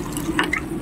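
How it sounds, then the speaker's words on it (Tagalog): Macaroni drops into a pot of boiling water, giving a brief splashy drip and bubbling burst over a steady boil, close by and with no talking. "Guys, lagay na natin yung macaroni natin kaya kumulo na yung tubig."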